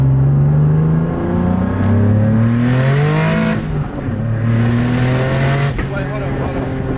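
Single turbo Nissan 370Z Nismo pulling hard under high boost, its engine note climbing through gears with short shift dips, loud and close from inside the car, with voices over it.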